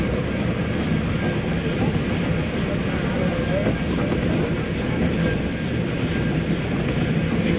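Mount Washington Cog Railway train grinding up the steep Jacob's Ladder trestle, a steady loud mechanical rumble with rail clatter throughout, close and continuous, with no pauses.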